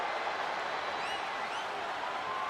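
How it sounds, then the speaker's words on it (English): A capacity arena crowd cheers during a no holds barred wrestling match in WWE 2K25, a steady, moderately loud roar of voices with scattered whistles and shouts throughout. "do you hear this capacity crowd?"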